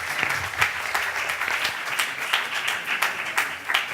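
An audience applauds at a conference, a warm round of clapping with distinct individual claps rising and falling throughout.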